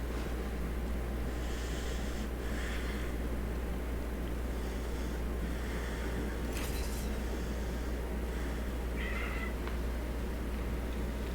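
A cat gives a few faint, short meows over a steady background hum and hiss, with long quiet gaps between calls.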